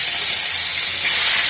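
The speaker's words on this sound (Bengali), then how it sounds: "বাকি মাছগুলো ভেজে নেব।" Pabda fish frying in hot oil in a home kitchen, a steady loud sizzling hiss that fills the clip without pause and with no talking.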